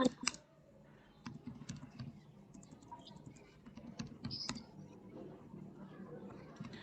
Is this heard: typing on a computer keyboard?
yes